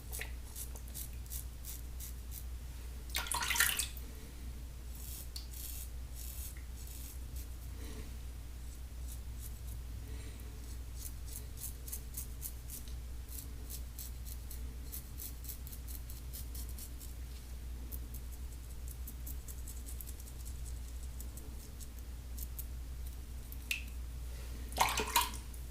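Gillette English flat bottom Tech safety razor scraping under the chin, a series of quick faint rasping strokes over a steady low hum, with a couple of louder bursts in between.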